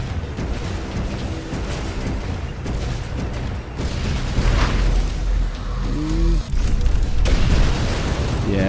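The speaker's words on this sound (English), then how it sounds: "Yeah, dark matter bomb, pretty impressive" A dark matter bomb goes off in the X-Morph Defense strategy game, giving a deep, sustained rumbling blast over constant battle noise, with swelling booms midway and a person talking over the top.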